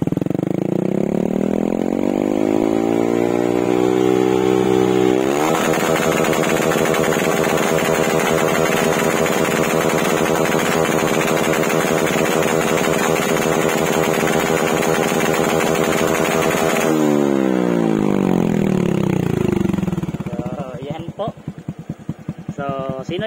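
A Suzuki Raider J motorcycle with an open rapid pipe exhaust revs up from idle to a sustained, loud, raspy high-rev roar, then winds back down near the end, recorded up close.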